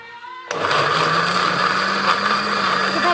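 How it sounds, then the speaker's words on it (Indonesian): After a moment of quiet, a kitchen blender starts and whirs loudly and steadily, grinding andaliman pepper and other spices with water into a paste for the Batak noodle dish mie gomak. "Lalu kita blender."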